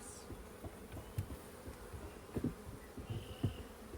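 Honeybees buzz around an open hive during beekeeping work, a soft steady hum with occasional closer passes and light handling knocks, fairly quiet and without talk.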